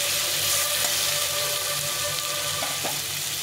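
Amra (hog plum) pickle frying steadily in a pan, a continuous close hiss and crackle of hot oil with a couple of faint clinks near the end.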